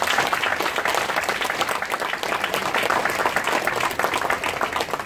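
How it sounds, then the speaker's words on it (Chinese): Sustained applause from an audience fills a committee inauguration ceremony: many hands clapping densely and evenly, with no break, for the whole stretch. "现在我们也要给予热烈掌声"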